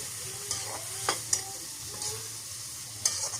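Tomatoes frying in a pan for a stingray fish curry, a soft steady sizzle punctuated by several spoon scrapes and taps against the pan.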